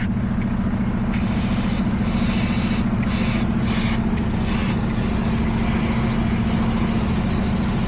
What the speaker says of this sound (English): you can hear air blowing back out right here